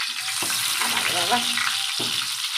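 Eggplant slices frying in hot oil in a home kitchen after small puti fish, a steady close sizzle running throughout with a brief spoken word over it.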